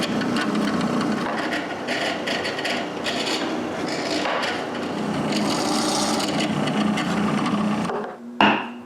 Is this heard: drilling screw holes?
yes